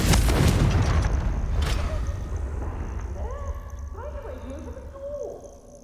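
A Confringo spell explosion in the Hogwarts Legacy video game bursts loud and near at the start, then a booming rumble fades slowly beneath later tonal magical effects.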